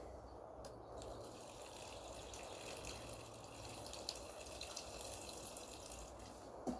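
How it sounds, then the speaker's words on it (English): Steady, quiet stream of water pouring and splashing continuously into the base of a tomato planter in a polytunnel, with no talking. "I'm just going to add some water"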